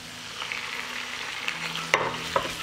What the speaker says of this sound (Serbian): Dodat ću 500 grama pileće džigerice bez srca.